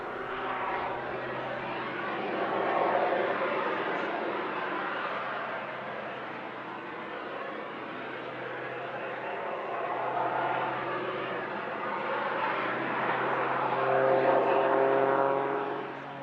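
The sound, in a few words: propeller aircraft engine during airshow aerobatic display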